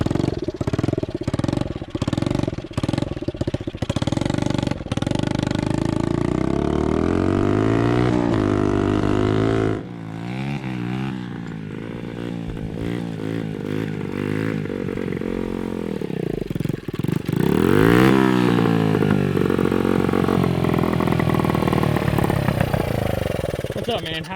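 A worn-out pit bike with tiny tires is ridden, its small engine loudly revving, sputtering and rising and falling in pitch up close, with people talking over it at times.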